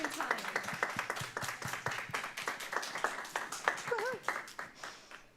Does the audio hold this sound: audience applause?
yes